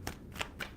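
A deck of tarot cards being shuffled by hand in three quick papery riffles, close and fairly quiet, with no talking.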